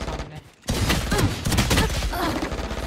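Rapid Stinger submachine gun fire in Valorant, a dense burst of shots after a brief pause, loud and close with a voice talking underneath.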